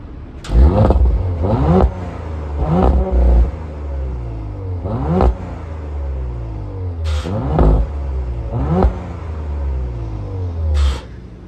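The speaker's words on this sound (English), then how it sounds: "twin turbo makes really nice noises" An Audi RS 5 twin-turbo engine revs hard in repeated bursts, roaring up and dropping back several times over a steady idle rumble, loud and close.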